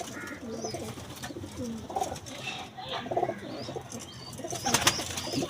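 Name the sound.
cooing of a Teddy breed pigeon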